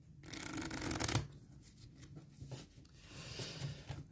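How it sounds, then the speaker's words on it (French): Cruise cards from the On Board board game are shuffled by hand, a close papery riffle that is loud at first, then softer shuffles and slides follow, with no talking. "il faut intercaler les 4 cartes croisières."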